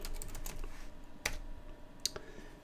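A computer keyboard clicks in short, light taps as a command is typed, with a couple of sharper keystrokes standing out from the quiet, close patter.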